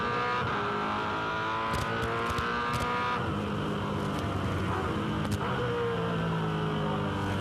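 A V8 Supercar on its warm-up lap in the 2006 Bathurst 1000 Top 10 Shootout, engine droning steadily at high revs with a shift in pitch midway, heard continuously from close by with no talk.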